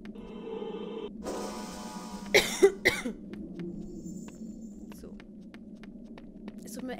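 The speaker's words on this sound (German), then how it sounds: "Tut mir echt leid wegen dem Husten." A few quick, close coughs in a short cluster, heard over a steady low electrical hum while someone plays the PC version of Harry Potter and the Philosopher's Stone.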